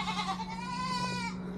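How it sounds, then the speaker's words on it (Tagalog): A single close goat gives a long, wavering bleat that lasts just over a second, calling for a companion on ancestral farmland. "Ayan yung mga kambing natin."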